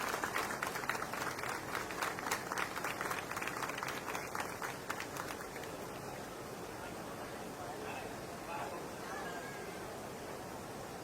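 Applause from a ceremony audience as a member of parliament is honored with a memento, dense clapping for about five seconds that fades into a softer room murmur.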